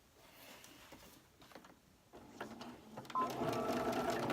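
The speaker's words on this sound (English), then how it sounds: "I'm here at the sewing machine." Sewing machine stitching fabric, starting with faint handling clicks and then building into a steady close whirring run of stitches over the last second or so, with no talking.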